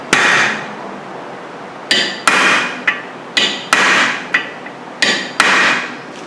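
A hammer taps a metal drift set on a rusted Phillips-head screw in a brake drum on a 2008 Hyundai Santa Fe, giving sharp ringing metallic strikes, about ten irregular blows, some paired, close and loud with short decays.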